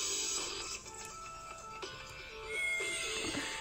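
A cat meows, a few short tonal cries standing out over quiet electronic game sounds in an indoor setting.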